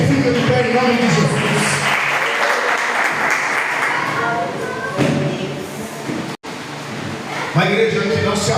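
A church congregation applauding at a Sunday service, sustained loud clapping heard with voices talking over it, fading briefly and then swelling again.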